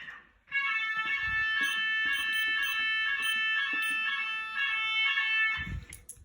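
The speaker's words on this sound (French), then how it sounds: "Le signal d'évacuation va retentir." Fire alarm evacuation signal sounding during a test, a loud continuous electronic tone pattern that pulses in a steady repeating rhythm, starting abruptly and running to the end with no talk over it.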